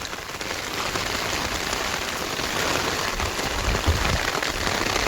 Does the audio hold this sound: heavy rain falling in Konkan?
yes